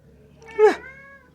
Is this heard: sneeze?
no